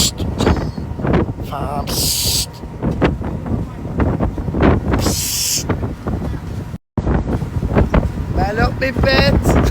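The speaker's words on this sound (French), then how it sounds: "c'est sympa là, mais il y a beaucoup de vent!" Strong wind buffets a speedboat off Koh Phi Phi near Phuket, roaring and gusting loudly against the microphone, with brief bursts of hiss and a momentary dropout.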